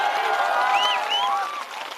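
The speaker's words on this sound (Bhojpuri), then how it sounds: "बजा ली ताली" A rally crowd in Rajpur, Buxar district, Bihar, keeps up a steady wash of applause for two seconds, with a few whistle-like tones and cheers riding over the dense, fairly loud clapping.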